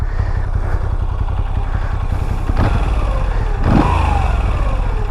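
A 2022 Moto Guzzi V7 Stone with twin exhausts idling close by, pulled over at the roadside: a loud, steady low rumble with a couple of brief throttle blips swelling over it.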